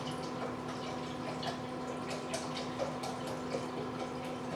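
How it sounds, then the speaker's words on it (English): Chicken broth poured into a pot on the stove for okra: a steady, moderately loud liquid pour and splash running continuously, with faint dripping over a low kitchen hum. "You pour in your chicken broth."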